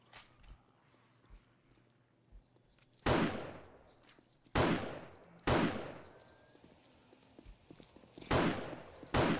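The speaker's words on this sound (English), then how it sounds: "Let's see if I can take him out with the sniper rifle." Sniper rifle shots in the video game 7 Days to Die: four loud, sharp blasts with trailing echoes fire at irregular intervals, separated by faint shuffling footsteps and low ambient rumble.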